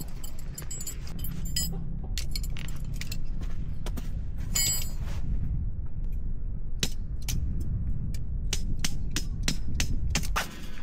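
Repeated metallic taps and knocks sound at uneven intervals, some in quick bursts, close by, like a small hammer striking metal parts, at a campsite.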